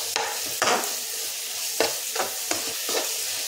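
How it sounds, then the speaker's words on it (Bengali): A spoon stirs chopped tomato into a frying country chicken curry, with a steady low sizzle broken by several sharp scraping strokes against the pan at an uneven rhythm. "যেহেতু আমরা টমেটো কুচি যোগ করছি তাই এখন ভালোভাবে নাড়িয়ে নেব।"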